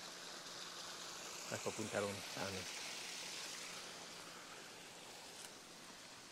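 Stream water flows at a farm in Tagaytay past a pond of tilapia, making a steady, even rush throughout with a brief burst of voices partway through.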